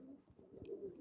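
Pigeons on a rooftop coo softly, low rolling calls close by but faint, with quiet ambient noise and no talking.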